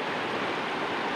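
River water flowing, a steady broadband rushing wash, close and constant with no breaks and no voices.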